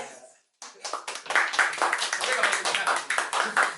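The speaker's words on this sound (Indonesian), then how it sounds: "Gak harus tepuk tangan sih sebenarnya." A few people clap their hands during an Indonesian podcast recording, starting after a brief pause. The claps come quick and close, mixed in with people talking.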